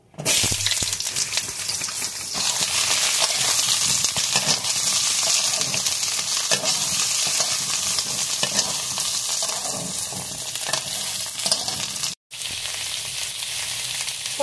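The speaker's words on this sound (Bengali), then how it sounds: "এখন পটলগুলো ভেজে নেব" Pointed gourd (potol) fries in hot oil in a wok with a loud, continuous sizzle and spatter. It cuts out briefly near the end, then resumes, with no voices over it.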